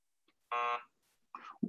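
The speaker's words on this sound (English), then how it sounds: "Do you want to check your buzzer to make sure we can see you?" A quiz game buzzer is tested during a remote team match, giving one short, loud electronic buzz of about a quarter second, with faint clicks before it and brief talk-like sounds after.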